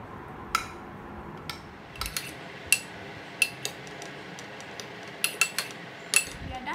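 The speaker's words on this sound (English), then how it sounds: "So let's start mixing. We need to mix well until well combined." Spoon stirring raw mango pickle in a bowl, heard as faint, scattered clinks and taps of metal against the dish at irregular intervals over a soft background hiss.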